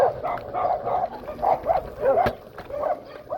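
Several dogs bark in repeated bursts at riders passing on electric scooters, sharp yaps coming close and loud over a steady scooter motor hum, with a clunk near the end.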